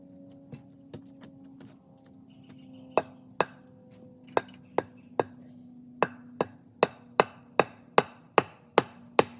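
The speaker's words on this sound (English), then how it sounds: "This is what you call fine-tuning with a sledgehammer." A sledgehammer drives a wooden beam into place in a stone studio wall, landing about eighteen sharp, close blows that start sparse and quicken into a steady rhythm over a low background hum.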